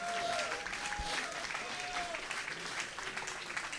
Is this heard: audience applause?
yes